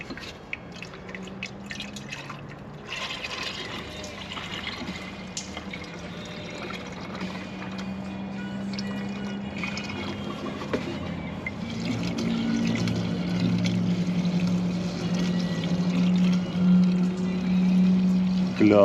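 Coolant is poured into the drained cooling system of a Duramax 6.6 diesel truck, a steady trickling and gurgling flow that grows fuller and louder as the system fills.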